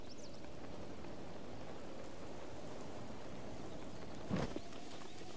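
Steady rain from Zelda: Breath of the Wild, a soft continuous patter of drops on the ground, with a brief louder burst near the end.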